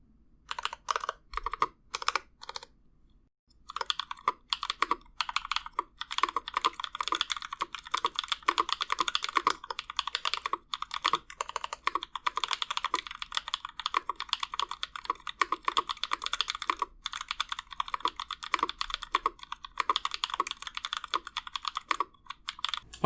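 Rapid, steady typing on a custom-built 8008 mechanical keyboard, crisp clacky keystrokes in a continuous stream after a brief pause near the start, close and clear.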